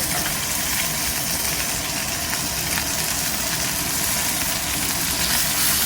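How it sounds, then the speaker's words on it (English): Meat sears in a hot pan with a continuous, dense sizzle that holds steady and fairly loud throughout, with no pauses and no voices. "They'll sear on all the sides now."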